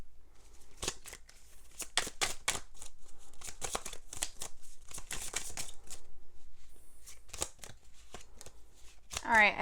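A deck of tarot cards is shuffled up close in repeated quick riffles and flicks, crisp papery snaps coming in uneven bursts, with a brief rustle at the end.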